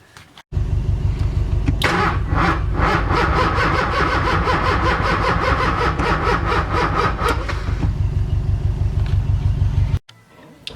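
An LS-swapped Nissan 240SX cranks over repeatedly without catching: a steady, rhythmic starter whir with engine chuffing, loud and close, running for about nine seconds and then cutting off abruptly.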